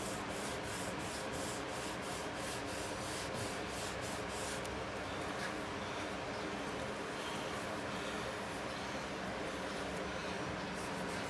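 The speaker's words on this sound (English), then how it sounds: "Sand them out." Sanding out cracks during a Tahoe repair: a continuous, steady rubbing scrape of abrasive against the surface, close and fairly quiet, with quick back-and-forth strokes early on that smooth into an even, unbroken grind, with no talking.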